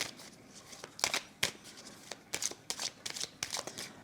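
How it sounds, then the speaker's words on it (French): Tarot cards being laid out on a table during a reading, a series of soft close slaps, flicks and slides of card stock in irregular clusters, quiet, with no talk. "On va juste mettre les cartes de conclusion au-dessus, des communications."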